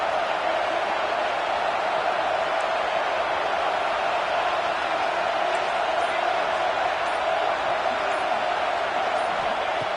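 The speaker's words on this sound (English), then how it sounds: "this crowd is fired up. Listen to this noise here" A packed stadium crowd roars in a football video game, a dense, steady wash of cheering and noise that holds at full volume throughout without a break.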